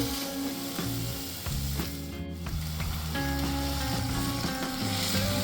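Spices with ground cumin, ground coriander and salt fry in a pan for bhoger khichuri, a steady sizzle running throughout beneath background music.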